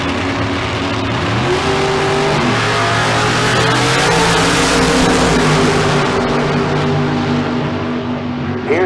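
Loud, steady roar of drag racing cars at Famoso Dragstrip, with engines droning and revving continuously throughout, pitch shifting as the cars run, with a faint voice underneath.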